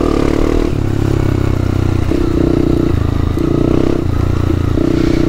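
Motorcycle on a dirt trail near the Bom Sucesso ruins and beach cliffs, its mid-pitched engine stepping through gears with clattering jolts as it rides over a small bump, close and continuous with no talk.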